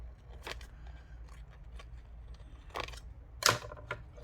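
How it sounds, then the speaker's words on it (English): Scissors cut paper napkins in a few scattered, soft snips and crisp rustles, close and quiet against a low hum, with one sharper cut near the end. "I'm using the scissors incorrectly and wondering why I'm finding difficulty cutting with it today."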